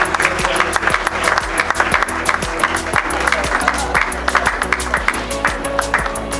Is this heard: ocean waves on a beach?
no